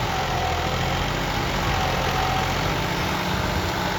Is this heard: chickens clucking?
no